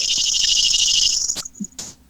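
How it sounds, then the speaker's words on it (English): A cicada or cricket gives a loud, steady, high-pitched buzzing drone that cuts off sharply after about a second and a half, followed by a few brief clicks and chirps, with no talking. "There was a cicada or something that just."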